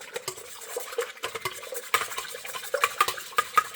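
A whisk stirs warm water in a bowl for sourdough bread, with quick irregular scraping strokes and light metallic clinks against the bowl, close and fairly quiet.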